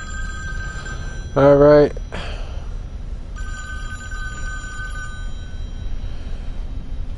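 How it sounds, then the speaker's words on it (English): Telephone ringing inside the Friday the 13th Virtual Cabin video game, one short burst of a trilling bell ring, with faint electronic tones and someone speaking briefly afterward. "walk over to that phone, and we're going to cut the video right before we answer the phone"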